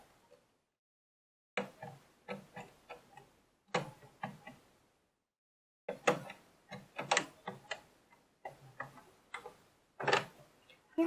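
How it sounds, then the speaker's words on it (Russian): A sewing machine's presser foot is swapped for a zipper foot while making a key holder: close, crisp mechanical clicks and small metallic taps in irregular bursts, separated by short silences, with no talking. "Меняем лапочку на лапочку для пришива замка."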